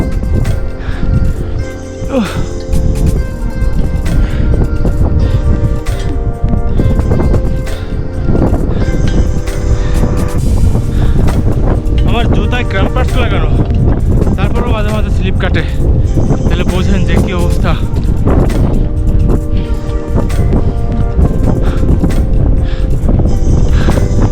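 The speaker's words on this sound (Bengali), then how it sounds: "প্রচণ্ড বাতাস এখানে" Strong wind roars and buffets steadily throughout, loud and close, with heavy rumbling gusts across the microphone, on the trail from Deurali to Machapuchare Base Camp on the Annapurna Base Camp trek.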